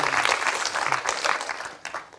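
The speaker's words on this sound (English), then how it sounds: "Let's have some applause." Applause from a student masterclass audience, a short burst of many hands clapping fairly close and steady, with no talk over it.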